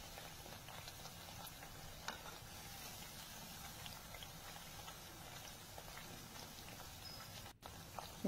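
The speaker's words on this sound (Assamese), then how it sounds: "এইখিনি সব গোল্ডেন ব্ৰাউন কালাৰ কৰি মই ভাজি ললো" Pieces of bread frying golden brown in hot oil in a pan for a quick breakfast bread snack, giving a soft, steady, low-level sizzle and crackle that runs evenly throughout.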